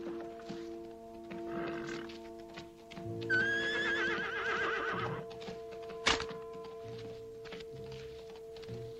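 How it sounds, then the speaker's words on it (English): A horse approaching at a canter, with a loud whinny near the middle over a steady hum and a few soft hoof thuds, then one sharp knock toward the end. "I say it's an horse coming up at a canter, Joe."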